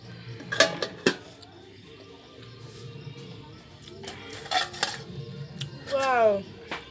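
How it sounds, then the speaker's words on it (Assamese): A lid set down on a pan of cooking fish in a home kitchen, giving a few sharp metallic clinks and clatters with quieter utensil knocks between them, close by. "এতিয়া এখন ঢাকনি মাৰি দিওঁ।"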